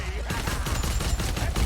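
Rapid bursts of gunfire from shooting in the video game CataTide, loud and continuous with repeated sharp shots over a low rumble, no voices.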